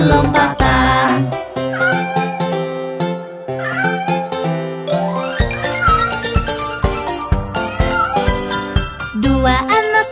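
Cartoon kittens meow repeatedly over a bouncy 3D nursery-rhyme song about jumping kittens, the cat cries sitting close and loud within steady music throughout.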